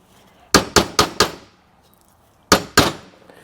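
Six sharp metallic hammer blows knocking out a bushing in a GM 4L60E transmission case, four in quick succession, a pause, then two more, loud and close with no talking.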